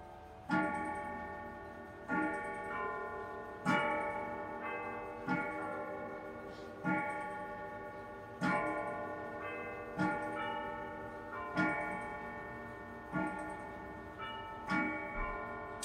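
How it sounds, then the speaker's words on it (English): A tall walnut Howard Miller grandfather clock with triple chime strikes ten o'clock, with about ten evenly spaced, ringing bell-like strikes roughly every one and a half seconds, each decaying into a rich sustained tone, heard close and alone. "And then we'll get the 10 strikes for 10 o'clock."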